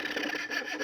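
A homemade coping saw rasps through wood in a short, close stroke, a steady scratchy cut with a brief dip mid-stroke.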